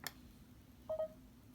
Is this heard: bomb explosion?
no